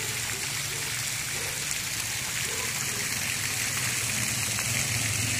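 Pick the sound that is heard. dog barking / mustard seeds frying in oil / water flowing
water flowing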